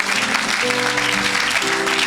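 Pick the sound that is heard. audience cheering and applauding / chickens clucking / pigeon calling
audience cheering and applauding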